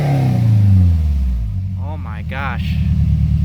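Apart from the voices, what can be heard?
truck engine revving with new exhaust system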